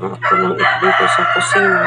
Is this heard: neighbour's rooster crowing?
yes